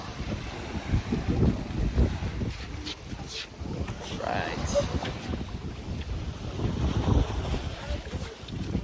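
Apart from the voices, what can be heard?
boat on water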